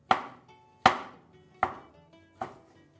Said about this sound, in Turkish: Şöyle bir doğradık.